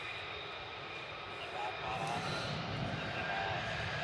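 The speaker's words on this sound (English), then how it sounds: "And we'll just about see these F-15s go out" F-15 jets taxiing out at RAF Lakenheath, a distant broad engine roar that swells slightly partway through, with faint voices nearby.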